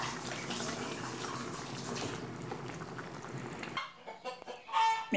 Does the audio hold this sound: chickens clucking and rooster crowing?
yes